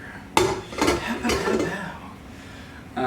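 Metal mixing bowl clanking into place on a KitchenAid stand mixer while baking bread, two or three close knocks and rattles followed by quieter handling.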